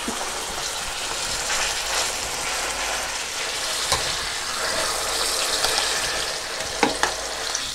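Beef sears in hot clarified butter, giving a loud, steady sizzle and spitting hiss close by, with occasional sharper pops and crackles and no talking.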